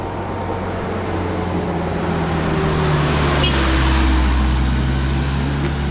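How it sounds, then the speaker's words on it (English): Open-top tour bus rumbling past on a street, a loud, steady engine and road roar that swells toward the middle and stays close throughout. "that's a tour bus"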